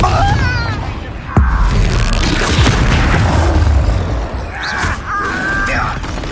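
A Confringo fire spell goes off in Hogwarts Legacy, a loud booming blast in the middle of dense, continuous game noise with crackles and whooshes. Short voiced sounds are heard near the start and the end.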